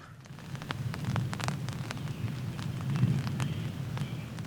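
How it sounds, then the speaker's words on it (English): Light rain patters on a camping tent on a solo overnight trip along the Potawatomi Trail, a soft continuous hiss with scattered drops tapping the fabric up close. "So far, the rain doesn't seem to be amounting to much."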